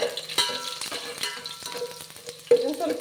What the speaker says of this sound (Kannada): ಕಪ್ಪು ಕಲರ್ ಬರೋ ತನಕ ಫ್ರೈ ಮಾಡ್ಕೊಳ್ಳೋಣ